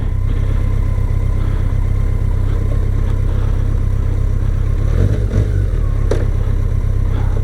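A BMW K1100LT motorcycle engine running loud and close, holding a steady throaty drone with a slight swell in revs near the end and a faint click or knock.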